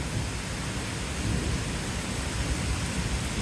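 A thunderstorm brings heavy rain and wind, heard outdoors as a continuous, broad roar with low rumbling underneath that stays fairly loud for the whole stretch and has no voices over it.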